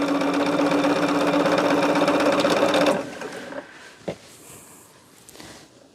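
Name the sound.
sewing machine sewing with dual control foot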